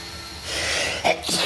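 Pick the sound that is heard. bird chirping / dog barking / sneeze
sneeze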